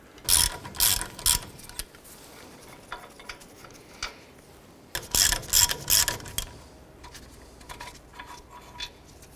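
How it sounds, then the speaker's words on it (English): A ratchet wrench with a 21mm socket loosens caliper bolts on a 2004–2009 Dodge Durango, giving two close bursts of rapid metallic clicking separated by a pause, with scattered single clicks afterward. "Using a 21mm socket, remove this bolt and this bolt here."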